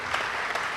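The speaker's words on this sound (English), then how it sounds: "let's give her another massive round of applause" Sustained audience applause at a restaurant awards evening, a steady dense wash of many hands clapping for under a second with no voices over it.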